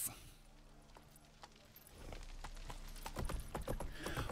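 Hooves clatter as the horse Roach gallops in the Witcher 3 video game, a faint patter that swells into louder, rapid thumping beats over the last couple of seconds.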